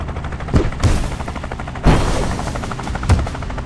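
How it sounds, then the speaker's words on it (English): Spore bomb attacks in Tactical Breach Wizards hit as loud, punchy bursts, three or four heavy thumps with rattling, gunfire-like crackle between them over a dense background. "Now we can do a spore bomb, because spore bombs don't hurt allies"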